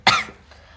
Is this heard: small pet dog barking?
no